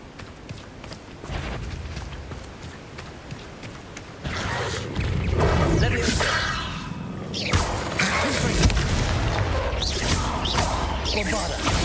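Bombarda explosion spell cast in Hogwarts Legacy, a loud burst with crashing and whooshing debris swelling midway, over busy game noise.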